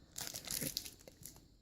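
Packing tape being peeled off a Game Boy Advance SP box, a faint, short crinkling and tearing rustle with no talk.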